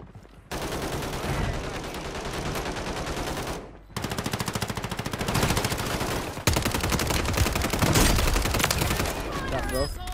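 Gunfire in Call of Duty Warzone on Rebirth Island: sustained rapid automatic fire in long loud bursts, broken by brief pauses, with players talking.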